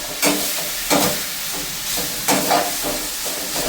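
Fenugreek leaves (methi sabji) being stirred in a pan, giving soft scraping and sizzling swishes in several brief strokes over a low steady hiss, close by.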